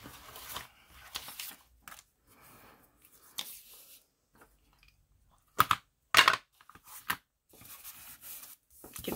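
Paper being fussy cut by hand with scissors: intermittent close snips and soft rustles spread across the stretch, with a few sharper louder cuts and quiet pauses between them, no talking.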